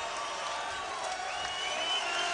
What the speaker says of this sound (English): Now the fans stand and applaud.